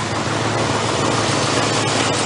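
An old 1965 Mercury truck engine, recently freed after years seized, runs at a steady idle, a continuous rough mechanical drone with no voices.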